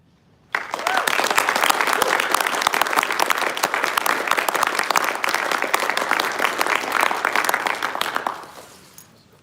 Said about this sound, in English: Everyone, please give a round of applause for all of our promotees and award recipients.